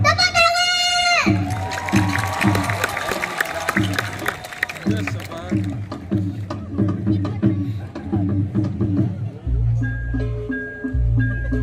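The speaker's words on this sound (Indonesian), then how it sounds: "Tepuk tangan!" An audience cheers and applauds at a children's gong kebyar gamelan performance, with crowd shouts and clapping mixed over the ringing, rhythmic metallic gamelan strikes and voices throughout.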